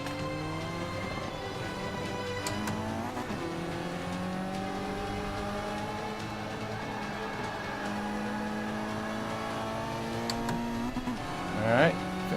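Racing car engine from Forza 5, driven with a Thrustmaster Ferrari 458 Spider wheel: a steady, loud engine drone with shifting pitch as it accelerates through a turn, with a brief sharp burst near the end and talk over it.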